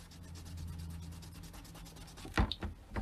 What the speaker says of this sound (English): I'm going to try and rub some more of that off there.